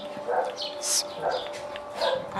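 Dogs give short barks and whimpering yips in quick bursts, close by, with a person talking over them.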